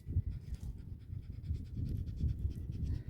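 A leashed dog pants quickly and steadily on a deserted Maine beach, rhythmic breathy huffs close by and fairly quiet, with no talk.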